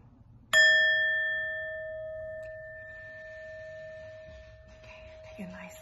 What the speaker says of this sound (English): And ring the bell.